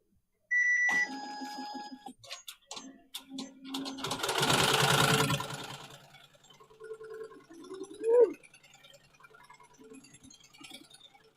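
A Melco Summit embroidery machine starts with a few electronic beeps, then stitches on a hat bill with a loud, dense, fast mechanical chatter that fades into lighter whirring and tapping.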